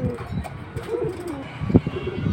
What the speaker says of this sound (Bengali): বাসার পাল্লা করা কবুতর